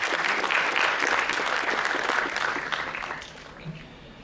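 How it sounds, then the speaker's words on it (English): Audience applause for participating students at a student event in Goa, a full round of crowd clapping that stays strong and then tapers off toward the end, with a faint voice as it fades. "Please give a big round of applause to all of you."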